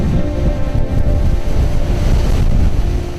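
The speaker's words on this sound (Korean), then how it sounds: "바람과 파도도 점점 거세집니다." Strong wind and rough waves on the coast of a Jeju island harbor as a typhoon approaches, a loud, steady roar of gusting wind buffeting the microphone over churning surf, with no voices.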